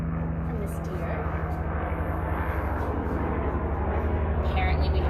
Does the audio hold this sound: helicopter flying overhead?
yes